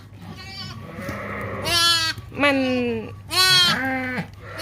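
A black sheep on a farm bleats in three loud, close, wavering calls, with a brief spoken word and quieter voices in between.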